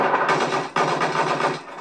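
Rapid bursts of machine gun fire in Battlefield 4, two dense rattling volleys separated by a short gap, loud and close with no talking.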